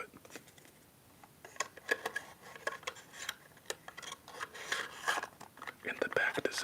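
A deck of playing cards being shuffled in a quiet room, giving dense papery riffles and soft rubbing flicks in repeated bursts, close and fairly faint with no voices.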